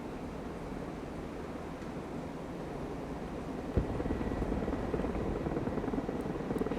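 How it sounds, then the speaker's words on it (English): A recon helicopter in the Broken Arrow video game flies with a steady, broad rotor and engine roar. It holds at a constant level, with a small bump partway through and no talk. "The Guardian is in the air. Recon heli at your command."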